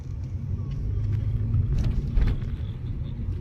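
A car climbing a hill road in the mountains, its engine a steady low rumble close by with no break, faint cabin noise above it.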